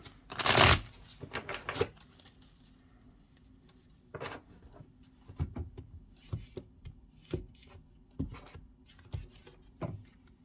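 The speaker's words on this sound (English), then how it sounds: "let's go ahead and throw some cards, some clarifiers onto the cards" Tarot cards are shuffled and drawn, starting with a loud, close riffle burst, then a string of soft, intermittent card slaps and taps. No one speaks.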